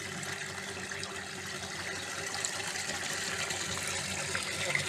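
Water pours steadily into a borehole during hydro-drilling, a continuous gushing, splashing rush that holds fairly constant throughout, with no talk.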